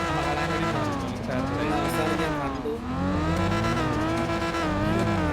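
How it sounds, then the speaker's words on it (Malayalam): A turbocharged car revs hard through gear changes, its rising engine note dipping at each shift with whistling turbo spool layered on top, loud and close throughout. "ഇതിന്റെ ടെർബോന്റെ സൗണ്ട്"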